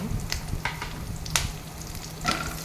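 Curry leaves with a little turmeric frying in hot oil in a home kitchen pan, a steady sizzle with crackling bursts and a few sharp pops, heard up close with no talking.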